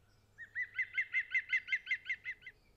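Green woodpecker's laughing call: a rapid run of about ten similar clear notes in an even rhythm, close and loud against a quiet background with a faint low hum.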